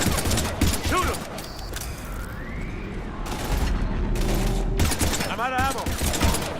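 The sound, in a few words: gunfire in a firefight, from the video game Mass Effect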